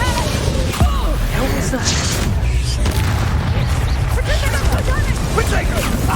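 In the Hogwarts Legacy video game, an Expulso spell bursts amid dense, loud battle noise, with booming impacts and crashes layered under a short spoken line.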